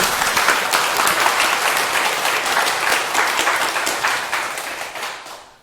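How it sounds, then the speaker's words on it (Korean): A seated audience at a Buddhist dharma talk breaks into sustained, dense applause that fills the room at steady strength for several seconds before tapering off at the end. "네, 박수 주세요"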